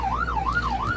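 A loud police car siren in a video game wails up and down in a steady, repeating sweep, with a low engine rumble underneath.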